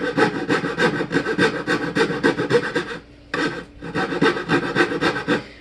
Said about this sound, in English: I have this blade in with the teeth, so I'm cutting on the downstroke